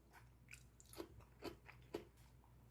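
Three distinct crunchy bites of homemade sauerkraut, close and crisp, spaced about half a second apart against a quiet background.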